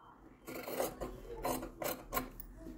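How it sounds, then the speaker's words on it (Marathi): A leftover cloth strip being cut while making a beginner's deer-design quilt from cloth scraps: a few short, rasping strokes in quick succession, close and fairly quiet, with no voices. "राहिलेली जी ही पट्टी आहे ना, ही मी आता सध्या कापून टाकणार आहे"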